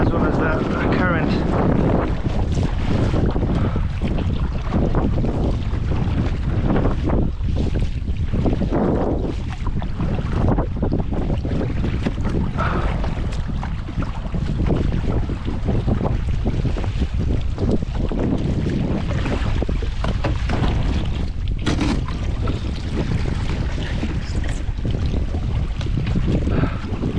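Strong wind buffeting the microphone from a fishing boat on open water off Hong Kong, a constant loud roaring rush with a person talking underneath.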